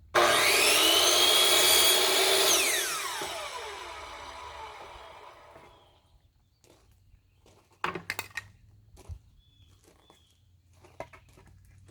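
A hand saw finishes a cut through reused lumber in a theater scene shop, loud rasping back-and-forth strokes that slow and fade out, followed by quiet with a few knocks and light handling noises.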